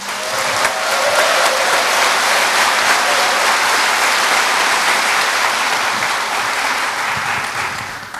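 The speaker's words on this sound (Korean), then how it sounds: "김지철 제16대 충청남도 교육감님께 여러분 큰 박수 부탁드립니다" A crowd at a provincial governor's inauguration ceremony in South Chungcheong, Korea, applauds the education superintendent with loud, sustained clapping that holds steady before tapering slightly at the end.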